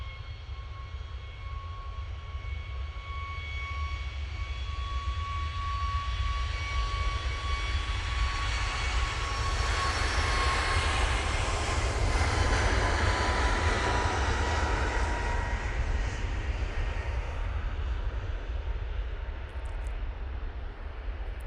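Aircraft at Manchester Airport, engines heard at a distance as a steady roar with a high whine that swells to a peak mid-clip and slowly fades, with no talk.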